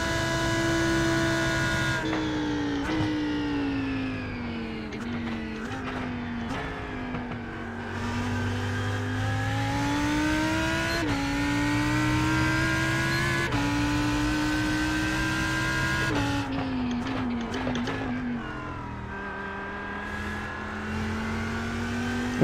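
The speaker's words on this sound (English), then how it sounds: "Oh, that BMW sounds so good." A BMW M8 GTE race car engine in a racing game at night at Daytona, a loud steady roar with rising and falling revs through gear shifts, with no talk over it.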